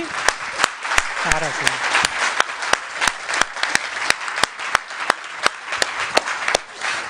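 An audience at a public health presentation day claps in unison, sharp evenly spaced strikes in a steady rhythm for several seconds, with a voice speaking briefly over it.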